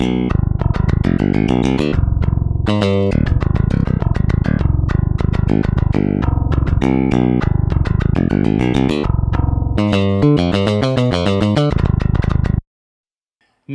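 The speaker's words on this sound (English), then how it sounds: "this is the DI track." A DI electric bass guitar track from the Nuclear Bass sample library, low-tuned, plays a continuous busy line of plucked notes with a fast rhythmic passage near the end, loud and dry, alone without talk, stopping abruptly before a short silence.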